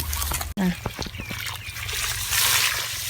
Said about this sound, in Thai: น้ำพุ่งแรงมากนะฮะน้ำเป็นสาย